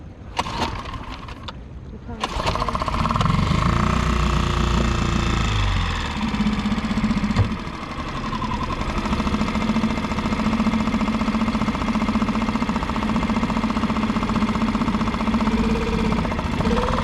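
A boat's mid-sized engine cranks with a few sharp clicks, then catches and runs at a steady, loud drone for many seconds, with a brief change in pitch partway through and a voice faintly underneath, on fresh water in Charlotte Harbor, Florida.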